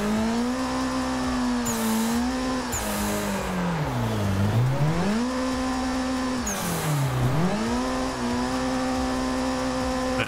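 Car engine in the Assetto Corsa drift simulator screaming near redline and bouncing off the rev limiter, with long sustained wails dipping twice as revs drop and climb again, loud and continuous.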